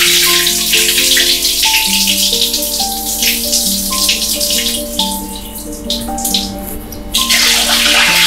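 Chicken pieces are washed in water with turmeric powder, giving continuous close splashing and swishing water with running, tap-like trickles, loud and steady throughout, with a musical tone playing underneath.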